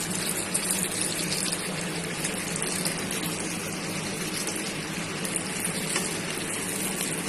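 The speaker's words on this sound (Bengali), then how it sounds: "অবশ্যই ডুবো তেলে ভাজতে হবে।" Chicken pieces deep frying in hot oil on a medium-to-high flame give a dense, steady sizzle and crackle, continuous and close, with no voices.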